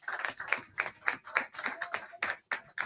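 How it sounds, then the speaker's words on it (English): An audience gives Brother Cliff a round of applause: a few distinct hands clapping in an uneven, moderately quiet patter for a few seconds, with no voices over it. "Give Brother Cliff a big round of applause."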